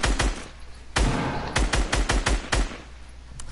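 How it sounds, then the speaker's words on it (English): Gunfire in the video game Fortnite: a rapid series of sharp, loud shots in uneven bursts, with one longer burst near the start and several quick cracks after it. "Bro, why are you shooting me down?"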